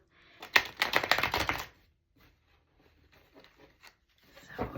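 Tarot cards riffle in a quick burst of crisp fluttering snaps, followed by softer sliding and tapping as the deck is handled, then another brief riffle.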